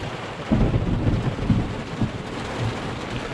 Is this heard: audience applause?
no